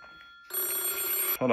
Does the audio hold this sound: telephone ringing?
yes